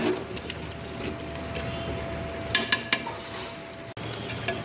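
Mutton braising in a clay pot with salt and garam masala, stirred with a utensil: a steady sizzling hiss runs throughout, broken midway by a few sharp clinks of metal against the pot.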